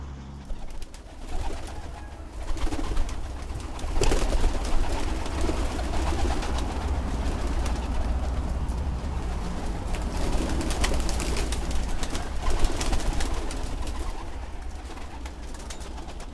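Adana pigeons coo low and steadily under continuous rustling and flock noise, with no voices present.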